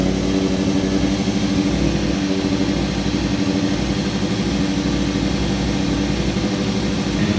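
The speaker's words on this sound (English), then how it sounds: "I'm going to go ahead and start this engine." A 2003 Kawasaki ZX6R four-cylinder motorcycle engine idles steadily and close by, a dense continuous rumble with a fine rapid pulse and no revving, heard alone.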